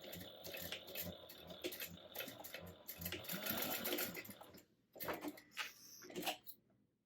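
A sewing machine bastes a strap onto a fabric wristlet at a quarter-inch seam allowance along the raw edges, running in steady close bursts of stitching with short pauses and a few light handling clicks.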